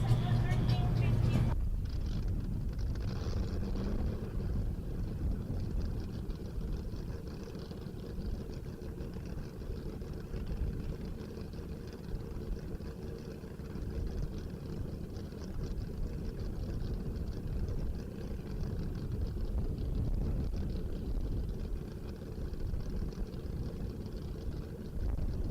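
A salt-flat race car fitted with new injectors makes its speed run, a steady, broad engine roar that holds at an even loudness for the whole stretch after a brief start, with a commentator's voice heard over it.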